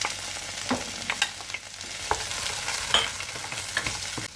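Frozen bell peppers tossed into a pan for a bulgur, vegetable and chorizo dish, giving a soft sizzle with scattered scrapes and clinks of stirring, fairly quiet and close, with no talking.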